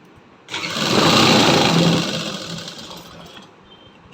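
A sewing machine stitches a seam on a salwar, starting abruptly with a loud, close buzzing whir that runs for about two seconds, then eases and winds down before stopping.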